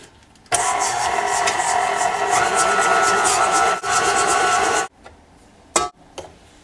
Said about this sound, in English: I'm going to combine my butter and my sugar and beat these together with the paddle attachment